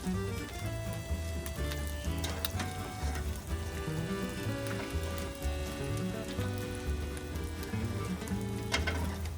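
Bread fries in an oiled pan for an English breakfast, giving a steady, close sizzle with light crackling pops throughout while a faint rhythmic background sound runs beneath it.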